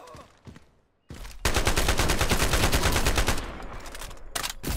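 Rapid automatic AUG rifle fire in the shooter game Ironsight, a loud sustained burst of closely spaced shots followed by shorter bursts after a brief quiet moment.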